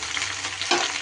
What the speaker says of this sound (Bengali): ভেন্ডিগুলো এবার ভেজে নেব।